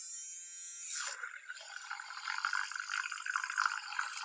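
An IKEA electric hand mixer runs submerged in water, giving a steady churning, bubbling whir that follows a brief louder burst as the beaters go in, with no talking.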